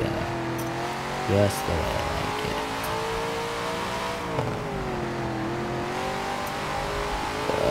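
Dodge Charger in Forza Horizon 4 accelerating with a steady, loud engine drone that climbs in pitch, with brief talk over it.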